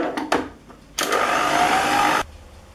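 An electric mixer whirs steadily for over a second, blending an egg into creamed margarine and sugar, after a few short clicks and taps; the motor is loud and close.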